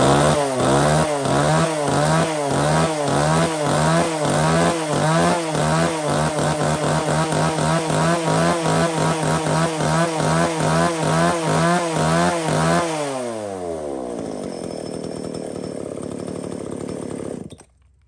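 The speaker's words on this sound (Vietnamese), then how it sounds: "H9 là một con máy cưa Tananka 33cc các bác nhá." A Tanaka 33cc chainsaw, model 3359 with a 35 cm bar, runs loud and steady at a throbbing idle for about thirteen seconds, then its pitch drops as the engine winds down and stops near the end.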